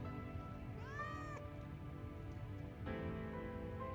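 A single clear cat meow in Final Fantasy VII Remake, short and rising then falling, heard alone over a low steady background hum with light rain-like hiss.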